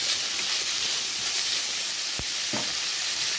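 Onions with salt in a pan give a steady, loud sizzle and hiss for the whole stretch, close up, with a faint scrape of stirring partway through and no talking.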